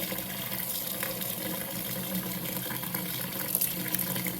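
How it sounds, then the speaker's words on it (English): Sourdough starter poured out at a kitchen sink, a steady splashing, running-water wash close by that carries on without a break, with no voices. "I'm going to pour out all but about a half cup of this starter"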